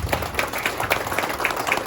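A church congregation claps in applause to praise the Lord after a prayer, a soft, fairly distant patter of regular hand claps in a steady rhythm.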